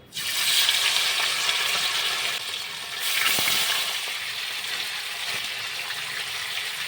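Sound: chicken frying in hot white oil with bay leaves

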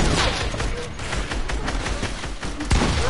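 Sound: heavy sniper rifle gunfire in a video game

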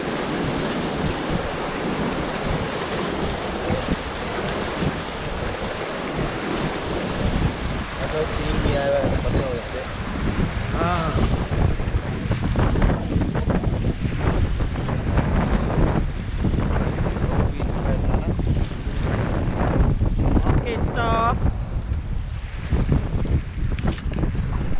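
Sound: river rafting on the Ganga at Rishikesh

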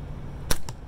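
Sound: shot fired with the Magpie Hunter Light

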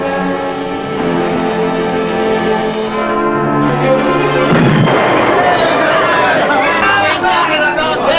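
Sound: submarine torpedo hits exploding

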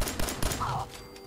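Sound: gunfire in the video game Fallout 4

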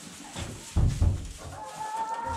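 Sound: chickens clucking in the coop

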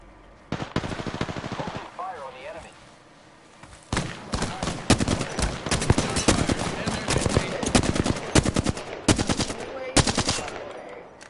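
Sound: gunfire in the Apex Legends video game

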